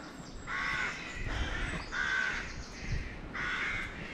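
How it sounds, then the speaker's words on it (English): Corvid caws ring out in short bursts from a bird by large treetop nests at a priory in Beaumaris, Anglesey; three or four harsh calls sound over an outdoor background, fairly close and clear. "Or is it a crow?"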